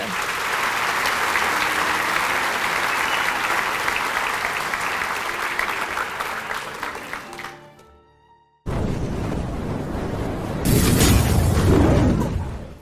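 An audience applauds at a Grade 8 blazer ceremony at Hoërskool Bellville, sustained clapping that fades out, then after a brief silence returns loud with a swelling burst of cheering near the end.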